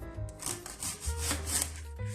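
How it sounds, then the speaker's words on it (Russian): A knife slicing a sour homegrown apple into thin pieces on a board, giving a few close, scraping cuts and soft rubbing strokes in quick succession, with no talking. "Дальше я буду нарезать кислое яблоко. Мне хочется его нарезать вот такими вот тонкими кусочками."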